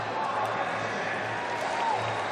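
A stadium crowd at the men's triple jump final of the 2023 World Athletics Championships claps steadily, a dense far-off wash of applause under a commentator's voice.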